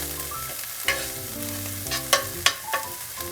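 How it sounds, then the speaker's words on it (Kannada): Onions frying in a little oil while being stirred for a dalia dish: a steady close sizzle with a few sharp spatula scrapes and knocks against the pan, no voices. "ಚೆನ್ನಾಗಿ ಒಂದು ಸ್ವಲ್ಪ ಕೆಂಪಗಾಗೋವರೆಗೂ ಹುರ್ಕೊಳ್ಬೇಕು ಈರುಳ್ಳಿನ."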